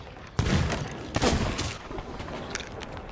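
Gunfire in Sea of Thieves during a fight at Fort of the Damned: two loud, close sharp shots about a second apart, each with a ringing tail, over a steady game ambience.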